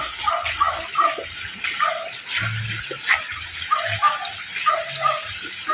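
Flood water rushes into a drainage sinkhole like a river, a continuous gushing wash with a dog barking and whimpering intermittently over it.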